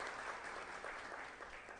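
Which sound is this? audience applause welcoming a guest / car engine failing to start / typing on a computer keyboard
audience applause welcoming a guest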